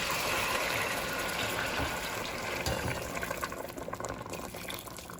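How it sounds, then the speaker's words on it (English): Hot water pours steadily into a pot of Jamaican oxtail in a continuous gushing stream, close and fairly loud, thinning into splashier trickles toward the end. "we're gonna continue pouring water"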